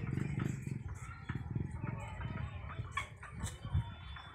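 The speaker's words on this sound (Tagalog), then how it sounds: "Tingnan natin anong kaganapan sa loob ng mga manok." Chickens on a farm cluck and murmur close by, a busy overlapping chatter of short clucks with occasional sharper calls over low barn noise.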